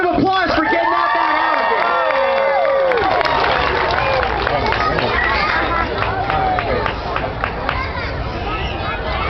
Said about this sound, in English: Let's give Andy a round of applause for getting out that